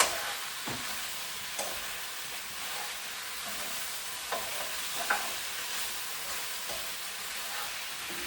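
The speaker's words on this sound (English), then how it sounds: "So I just mix them together" Celery and potatoes are stirred together in a hot pan, a soft steady sizzle broken by several scraping, clattering strokes of a utensil, with no voices.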